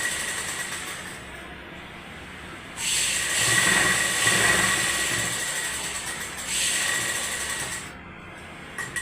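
Sewing machine stitching the rough basting seam on one side of a blouse, a steady mechanical whirr running in two bursts separated by a quieter motor hum, fairly close.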